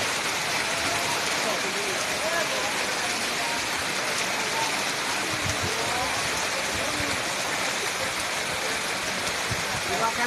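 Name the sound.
heavy rainstorm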